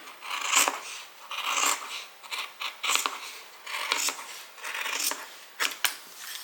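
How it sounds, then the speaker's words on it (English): Leather for a bag is cut by hand, giving a series of short rasping, scraping cuts in irregular bursts at close range with no talk. "And I'm going to cut this little bit off here"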